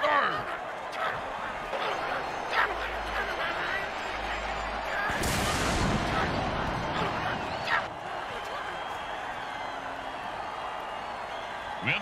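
Fireworks go off at a football game after a touchdown, a loud booming, crackling burst erupting midway and rumbling for a couple of seconds over steady crowd and stadium noise.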